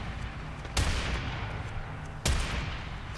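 Two sharp shotgun blasts in the Warframe video game, about a second and a half apart, fairly close over a low background rumble.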